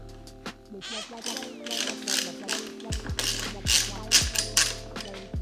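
A 4mm hex tool turning the bar end off an Aprilia RS660 handlebar, heard as close rapid ratcheting clicks in short bursts. Electronic tones and a voice sit underneath.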